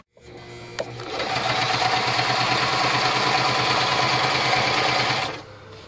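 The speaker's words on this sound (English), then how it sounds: "It'll produce enough power for me to run this sewing machine." A sewing machine runs steadily for about four seconds with a rapid mechanical whir, starting and stopping abruptly, close and fairly loud.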